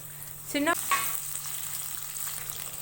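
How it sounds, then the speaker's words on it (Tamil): Small shallots being sautéed in oil with garlic for a Tamil brinjal gravy, giving a steady close sizzle with a short louder burst near the start and a faint electrical hum underneath. "இப்போ எடுத்து வச்சுருக்க சின்ன வெங்காயத்தை சேர்த்துக்கலாம்"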